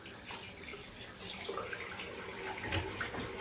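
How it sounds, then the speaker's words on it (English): Tap water running steadily into a sink while hands are washed, a soft continuous splashing stream with small shifts as hands move under it, close and fairly quiet with no talk. "I'm just going to wash my hands."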